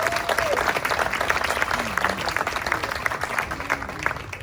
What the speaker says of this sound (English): Would you please give a round of applause for that?